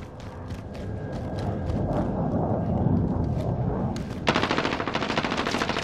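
Gunfire in the video game Call of Duty: Modern Warfare, with loud rapid automatic bursts that build into a dense, sustained volley near the end.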